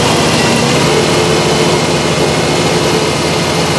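A 1999 Chevy Sonoma with the 2.2 engine runs steadily with a cylinder misfire, giving a loud, continuous broadband engine roar with no talk over it.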